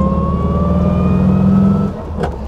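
A 1949 VW Typ 18A Hebmüller police Beetle with a 24 hp engine climbs a hill, its engine droning loud and close with a steadily rising pitch, then easing off near the end.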